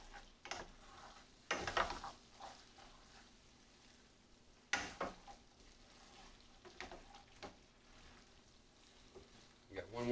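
Cheese is stirred into a pot of old-fashioned goulash, with soft scraping and thick stirring bursts over a faint simmer, quiet and close, with a couple of louder clattering strokes.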